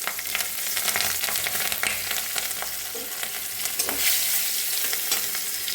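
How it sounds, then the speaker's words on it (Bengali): Nigella seeds and green chilies frying in hot oil for a mustard fish curry, a dense continuous crackling sizzle close by with light stirring, no voices. "এখানে আমি অল্প কালো জিরে ফোড়ন দিচ্ছি।"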